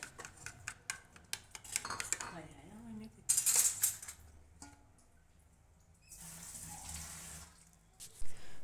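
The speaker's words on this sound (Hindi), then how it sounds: "इसको भी अच्छी तरह से ना बीट कर लेते हैं।" Yogurt mixed with green chutney, salt and half a tomato is beaten in a bowl, giving clattering utensil clinks and scraping against the dish, with bursts of wet stirring and brief quieter gaps.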